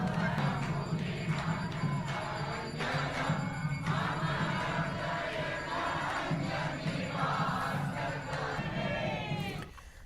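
Large crowd gathered at Vasundhara Raje's chunari offering event on the Chambal riverbank, a dense steady roar of many voices with occasional shouts and thuds, continuing loudly throughout before dropping at the end.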